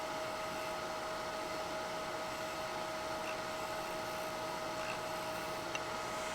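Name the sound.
wood lathe turning a resin and sponge pen blank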